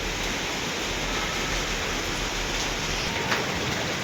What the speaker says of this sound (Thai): พี่น้องเบิ่งฝนตกพี่น้องเลย